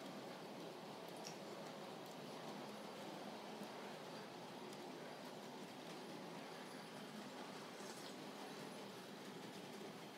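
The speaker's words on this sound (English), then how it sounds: "There's a lovely core train going by." A small model train runs along its track with a faint, steady rolling rumble and occasional light clicks and squeaks, no talking.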